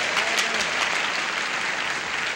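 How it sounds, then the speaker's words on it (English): A studio audience on the 1977 TV game show Match Game applauds, a loud, dense, even wash of clapping that holds steady from start to finish. "Hurts me to hear him applaud."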